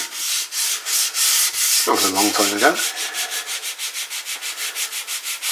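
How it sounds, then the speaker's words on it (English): Steady back-and-forth hand sanding with 400-grit paper on the wooden body of a PRS-style guitar from a DIY kit, close and rhythmic, with a brief spoken phrase partway through. "a little light sanding. This is 400 grit."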